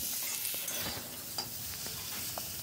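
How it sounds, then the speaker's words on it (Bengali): Long-cut potato strips seasoned with salt and turmeric fry in hot oil, giving a continuous crackling sizzle with occasional stirring clicks and scrapes, close and steady. "আলুগুলোকে আমি লাল লাল করে ভেজে তুলে রাখলাম"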